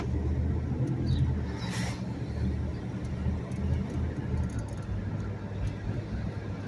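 A 1997 Jeep Grand Cherokee ZJ drives along a street, turning and braking, giving a steady low road rumble and engine hum with tire noise throughout, fairly even in level and with no clicking evident.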